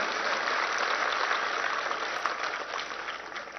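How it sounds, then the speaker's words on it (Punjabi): Sustained applause from a political rally crowd in Punjab, a steady dense patter of clapping that carries on evenly throughout with no voices over it. "ਤਾੜੀਆਂ ਮਾਰ ਕੇ ਥੋੜਾ ਹੌਸਲਾ ਵਧਾ ਦਿਓ"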